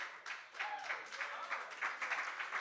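A small audience claps in a bar in Hollywood, a thin, scattered patter of hands that swells in short bursts.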